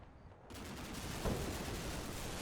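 Fire support gunfire in the wargame Combat Mission Shock Force 2, a dense continuous roar of automatic fire starting abruptly and holding steady, broad and distant-sounding, with one heavier thump midway.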